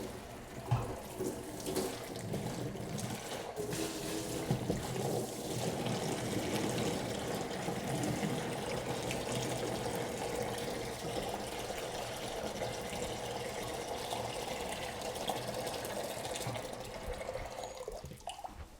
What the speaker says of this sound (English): We're going to start the rinsing process. We're going to be using lukewarm water again